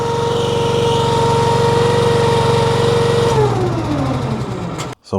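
A Honda iGX390 engine on a Wolfe Ridge 17VS runs steadily at full throttle, loud and close, then drops back to a lower idle before cutting off near the end.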